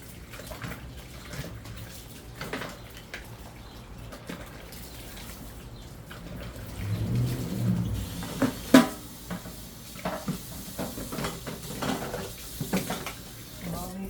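Dishes being washed by hand in hot soapy dishwater in a kitchen sink, with soft sloshing, splashes and a few clinks of pots and plates, fairly quiet and close.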